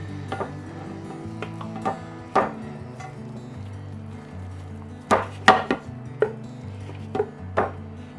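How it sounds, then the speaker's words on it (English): Spoon scraping and clinking against a casserole dish while holiday stuffing is scooped in, with scattered sharp knocks over a steady low background hum. "We're just going to go ahead and spoon all of our stuffing"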